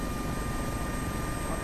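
An AS365 helicopter engine in the Prepar3D flight simulator, a loud, constant turbine whine over a dense rotor rumble, steady throughout with no talk.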